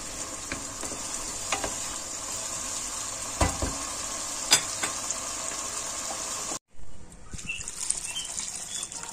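Food sizzles steadily in a pot as it is stirred with red pepper and black pepper, with scraping stir strokes and clinks over the hiss, a brief drop in the sizzle, then renewed frying.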